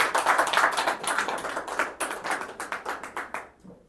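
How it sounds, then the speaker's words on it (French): Applause from a small group, dense clapping that fades out toward the end, with no talking. "Pas habitué à l'applaudissement."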